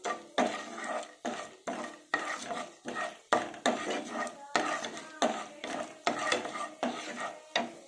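Chana dal, mustard seeds and cumin with a little turmeric are being stirred in a pan for a coconut mango chutney tempering, giving repeated close scraping and clinking strokes about once a second over faint sizzling.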